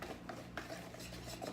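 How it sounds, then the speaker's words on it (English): Espresso chocolate chip protein pancake batter is whisked in a bowl, a quick steady run of soft clicking and swishing strokes, faint and close. "so I'm just gonna whisk it"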